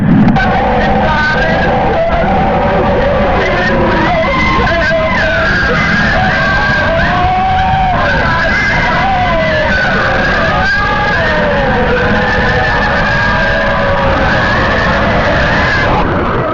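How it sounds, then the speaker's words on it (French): Men and women scream and wail continuously in a dense, loud, distorted recording meant to depict people in hell, with overlapping yells and cries throughout. "on entend les cris des hommes, les cris des femmes également"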